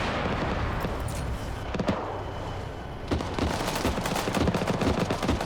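Gunfire in a military shooter game, a cluster of sharp shots and crackling bursts, denser and louder toward the end, with no voices.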